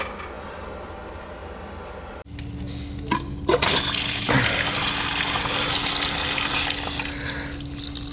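Water gushes steadily from a newly replaced outdoor sill faucet after the tap opens with a clunk, a loud, close, continuous rushing stream with a slight tonal hum, no talking.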